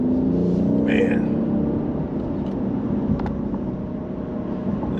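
A 2024 BMW 840 Gran Coupe engine in sport mode holds a steady, loud droning rumble throughout, with faint clicks and brief higher noises passing over it.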